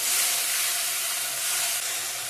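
A paste of ginger, green chili and garlic sizzles and hisses in a hot pan for a Bengali doi chicken curry, a loud, steady frying sound with no talking.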